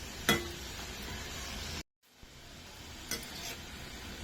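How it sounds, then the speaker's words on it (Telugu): Mushrooms sizzle in oil while a utensil stirs them, giving scraping clinks near the start and end of a short stretch. The sound cuts out briefly in the middle, and no one speaks. "దానికోసమని మనం ఇలా మష్రూమ్ని కొంచెం సేపు ఆయిల్లో వేయించుకోవాలి."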